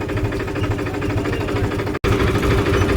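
A Farmtrac 45 tractor engine runs steadily in fourth gear, a continuous mid-low rumble with even vibration and knocking texture, loud and close, cut by a brief dropout near the end before resuming.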